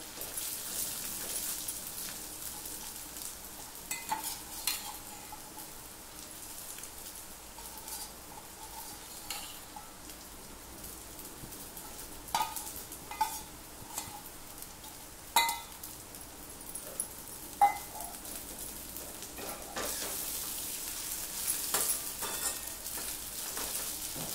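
Soaked sabudana (sago pearls) tipped into a frying pan with chillies and stirred, giving soft scraping and occasional clinks of the utensil against the pan over a low sizzle, with no talking.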